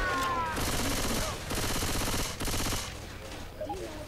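Loud sustained bursts of automatic gunfire from the video game Left 4 Dead 2 on expert mode crackle in two long volleys, easing off toward the end.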